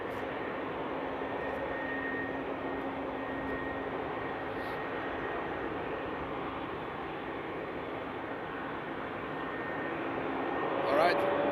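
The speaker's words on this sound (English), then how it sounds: "Oh, there's indeed a landing coming in. DHL's German banana, yeah." A DHL cargo jet lands at Frankfurt Airport on a frosty night, a faint, steady distant engine rumble with a soft tonal whine that swells slightly near the end.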